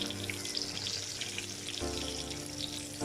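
Garlic and parsley cooking in butter in a pan for a seafood dish, with a steady, close sizzle and crackle filling the clip without any talk.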